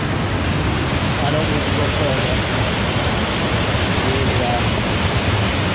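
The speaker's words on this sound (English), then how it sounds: "the Judy Woods waterfall" Judy Woods waterfall in woodland gives a loud, continuous broadband rush of falling water, steady and close, with a person briefly speaking over it.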